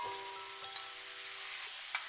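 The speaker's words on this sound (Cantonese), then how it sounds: "用鑊鏟呢將佢壓腍炒香佢，放入豬手炒上色" Pork trotters stir-fry in a wok with red fermented bean curd, giving a soft, steady sizzle with a couple of faint clinks from the spatula.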